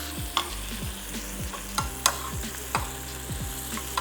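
Coconut, poppy seeds and whole spices frying lightly in a pan for Goan xacuti masala, with a steady low sizzle and soft, repeated stirring scrapes and taps at an irregular rhythm, close up and without talk.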